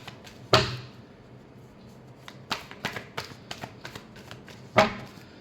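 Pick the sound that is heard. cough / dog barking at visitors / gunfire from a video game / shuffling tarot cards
shuffling tarot cards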